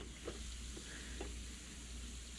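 Hash browns sizzle and fry in a pan for waffle stacks, a steady close hiss with a few faint stirring clicks and no talking.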